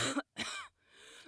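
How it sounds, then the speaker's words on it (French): A woman coughs in a cold-and-flu context, three short harsh bursts with brief gaps between them, close and clear with no other sound. "Elle tousse."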